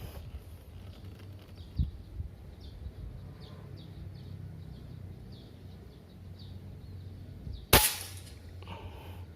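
Phonix PCP air rifle fired at a target on a windy day, two sharp single reports spaced several seconds apart, the second louder and closer, over steady wind noise with faint birds in the background.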